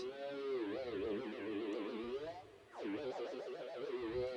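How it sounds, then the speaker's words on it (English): Wavering electronic tones from a cheap Chinese theremin sliding up and down in glissandi, heavily processed with effects, one long phrase, a brief dip, then another sweeping phrase. "traditional theremin style tones, chords, broken chords, glissando type sounds"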